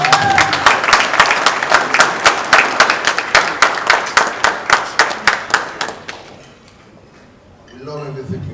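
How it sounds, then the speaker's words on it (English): A ceremony audience in Lagos, honouring the Ooni of Ife as grand patron of Redan, bursts into loud, rhythmic rounds of clapping that pulse steadily for about six seconds, then fade; a voice begins speaking near the end. "I want you to give him another resounding round of applause."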